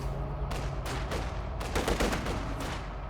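Rocket artillery barrage from a Werfer in the game Company of Heroes 2: a rapid series of loud, sharp blasts and crackling bursts, some overlapping, repeating throughout without pause.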